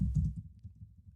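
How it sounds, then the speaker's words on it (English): Quick, soft clicks of typing on a computer keyboard, several keystrokes in a brief close burst with no talking. "I'm just typing like what I'm thinking"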